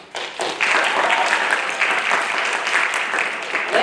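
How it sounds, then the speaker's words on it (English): A round of applause rises from the audience at a high school comedy competition, quickly swelling into steady, full clapping that holds evenly for several seconds, close and loud, with no one speaking over it. "Another round of applause for Riley"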